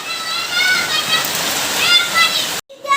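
Steady, heavy rain pours down in a dense hiss with scattered high chirps, then cuts off abruptly near the end before a brief return.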